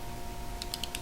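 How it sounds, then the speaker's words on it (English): A pen clicking several times in quick succession, sharp light clicks close by after a quiet start, with no talking. "So, clicking the pen,"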